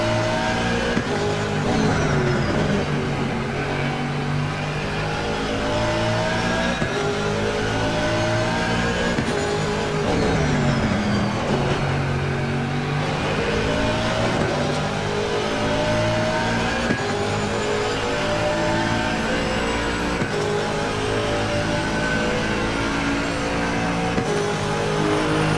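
A 2019 Aston Martin race car engine in Assetto Corsa Competizione drones loudly and steadily from the cockpit, rising and falling in pitch through shifts, with no voices over it.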